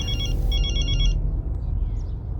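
A telephone rings loudly in short repeated electronic trills, stopping after about a second, over a low background rumble.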